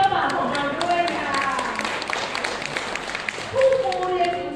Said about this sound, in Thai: ขอเสียงปรบมือให้กับเจ้าบ่าวของเรา ด้วยค่ะ